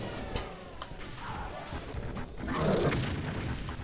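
Rocket explosions boom against a cyberdemon in Doom 2 on the Woody's World map, a continuous roar of blasts and thuds with a louder burst late on, no voice over it.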